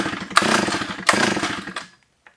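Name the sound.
old Solo 660 AV chainsaw engine being pull-started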